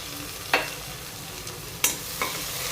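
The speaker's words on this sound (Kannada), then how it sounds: "ಜೀರಿಗೆ ಒಗ್ಗರಣೆಗೆ ಚೆನ್ನಾಗಿ ಫ್ರೈ ಆಗಬೇಕು" Garlic, cumin seeds and green chilies fry in coconut oil for a tempering. A steady soft sizzle runs throughout, broken by three or four sharp clinks and scrapes of stirring. No one speaks.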